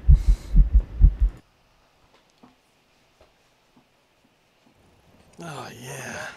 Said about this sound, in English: Triple heartbeat.